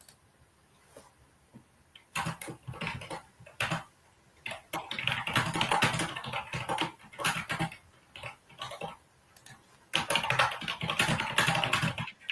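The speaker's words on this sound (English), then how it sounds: "No, sorry, my keyboard's so loud." Loud, close typing on a computer keyboard comes in rapid clattering bursts with short pauses between them.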